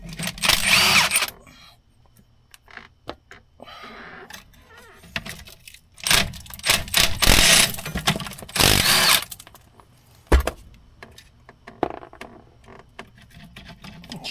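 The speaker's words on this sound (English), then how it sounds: "Might have to use the wrench." Metallic clanks, ratcheting and scraping bursts from a wrench working loose old seat bolts inside a 1980 Peterbilt 359 truck cab, coming in irregular loud clusters with quiet gaps between.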